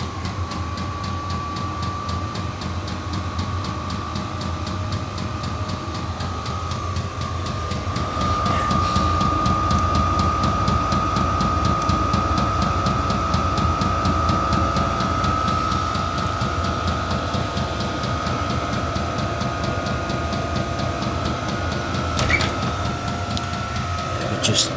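A Chinese diesel heater powered from 220 volts runs with a steady mechanical hum and rhythmic ticking pump pulses, its tone rising partway through, with a person speaking nearby at times.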